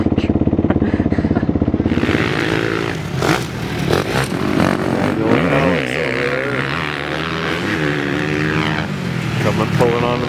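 A dirt bike circles a track during an easy practice session, its engine droning and revving steadily, rising and falling through gear changes, with a rider's voice talking over the motor throughout.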